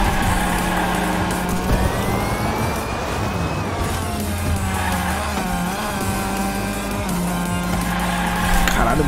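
A car drifts in a Hot Wheels racing video game, with a loud continuous engine whine rising and falling through gear shifts, steady game music underneath and a speaker talking over it.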